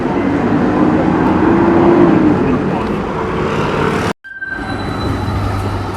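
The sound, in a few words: tram passing in Croydon street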